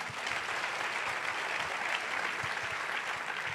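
Church congregation applauding after the Gospel reading, a steady dense clapping that stays loud and even throughout, with no talk over it.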